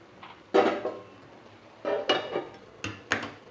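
Kudri dish being transferred from a pan into a serving bowl, with three short bursts of utensil scraping and clinking against cookware, close and moderately loud, separated by quiet pauses.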